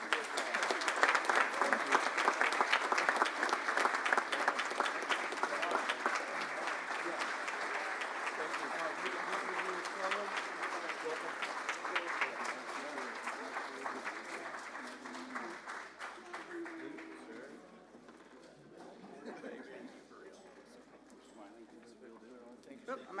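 A room of Rotary Club members gives steady applause to welcome new club members, loud at first and then thinning out, with a few voices over the clapping toward the end.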